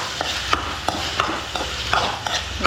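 Chopped, peeled tomatoes stirred into sautéed onions in a pan for a tomato curry, rhythmic spatula strokes roughly every third of a second over a constant sizzle, close and loud with no speech.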